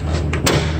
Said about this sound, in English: These doors do swing out all the way.